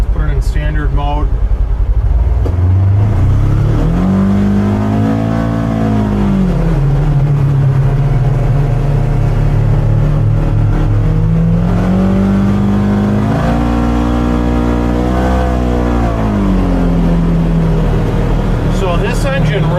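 The engine of a Polaris Xpedition ADV 5 Northstar side-by-side revs up hard twice, the pitch climbing, holding and dropping back each time. It is loud and close, heard from inside the cab.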